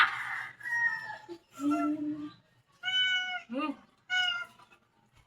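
A cat meows repeatedly, four or five loud drawn-out calls close by, separated by short pauses, with faint background noise between them.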